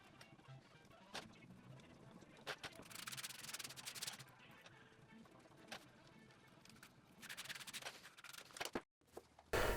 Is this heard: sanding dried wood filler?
yes